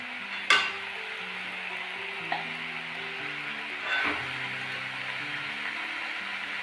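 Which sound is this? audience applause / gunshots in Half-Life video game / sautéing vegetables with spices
sautéing vegetables with spices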